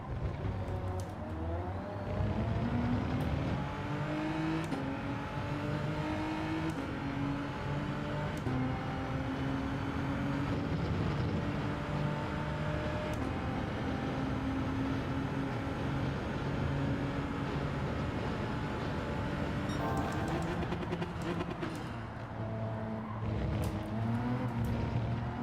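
A race car engine in Gran Turismo 7 at Monza screams at high revs, its pitch climbing and dropping through gear changes in a continuous loud whine, with a brief dip near the end before it surges again.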